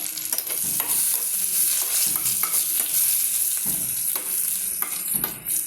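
Dried red chillies fry in hot oil for a mango dal curry, giving a steady, close sizzle broken by repeated stirring scrapes throughout, with no voices.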